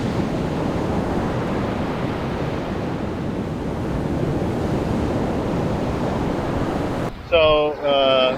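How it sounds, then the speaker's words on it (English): Wind blowing hard across the mic on a beach at Myrtle Beach, with steady roaring gusts and surf wash, and a person begins talking near the end. "You're probably hearing wind right now."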